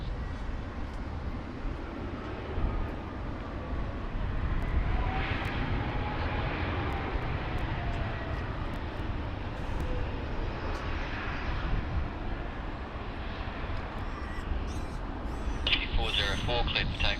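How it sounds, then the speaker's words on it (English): Qantas passenger aircraft landing at Sydney Airport, a steady broadband engine roar holding loud and constant throughout, with faint radio chatter and other airport sounds mixed in. "Qantas flight QF 1282 landing"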